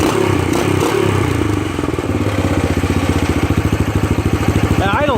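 A Yamaha TT500 single-cylinder motorcycle engine idles nearby with a steady, evenly pulsing thump, with some rattling clatter early on.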